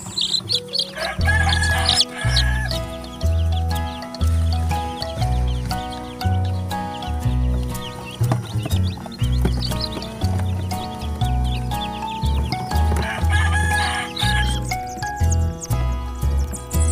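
Newly hatched heritage and fancy chicken chicks peep and chirp in a busy, continuous chorus. A loud rhythmic musical backing plays underneath the chirping.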